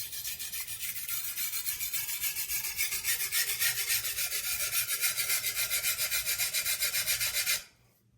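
A chef's knife is drawn over a low-grit whetstone under very light pressure, making a steady, rhythmic rasping scrape with regular strokes for about seven seconds before stopping abruptly.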